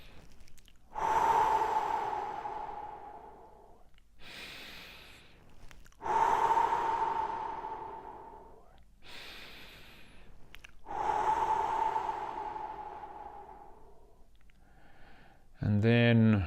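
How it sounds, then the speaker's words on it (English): Three big, deep, audible breaths taken during a guided cool-down after a run, each a long slow inhale and exhale spaced a few seconds apart, close and clear, followed by a brief different sound at the end. "we're going to take 3 big deep breaths again."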